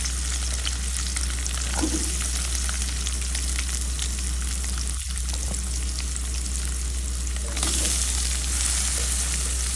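Sliced onions and green chillies fry in leftover fish oil for rui fish bhuna, a loud continuous sizzle and crackle close by, with a low steady hum beneath and a brief stirring knock midway.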